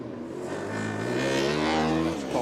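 A Formula Student race car driving round a track at a UK competition, its engine note rising in pitch as it accelerates, fairly faint and distant with steady background noise.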